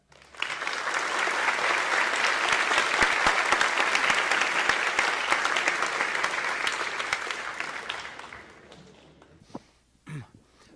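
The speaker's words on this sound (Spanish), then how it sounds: "Quisiera pedirle un fuerte aplauso para recibir a Richard Stallman." Loud, dense audience applause welcoming Richard Stallman at a free software conference in Spanish, sustained for about eight seconds before tapering off, followed by a few faint bumps and handling noises near the end.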